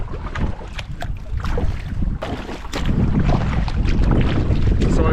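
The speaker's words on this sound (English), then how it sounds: "Just coming into this headwind on Hobart Lake." Strong headwind gusts across a lake during a solo canoe trip in Temagami, roaring and buffeting the microphone steadily and loudly, rising toward the end with no talk over it.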